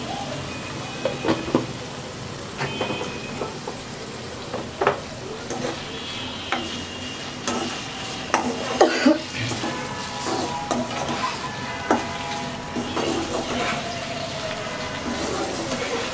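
Boneless chicken breast frying in a pan, a continuous close sizzle with scattered light taps and scrapes of a spatula throughout, moderately loud and steady, with no talk.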